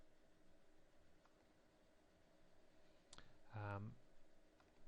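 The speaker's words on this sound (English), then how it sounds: "I'm going to tap the F6 key." A single key tap on a computer keyboard, one sharp click near the mic, followed by a brief harsher burst of clicking against a quiet room hiss.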